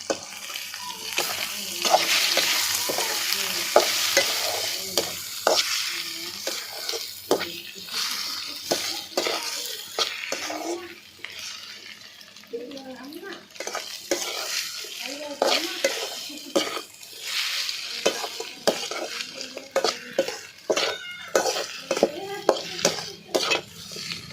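Carrot poriyal with egg being stirred and fried in a pan: continuous sizzling with repeated scraping and clinking of a spatula against metal, close and steady, with occasional talk.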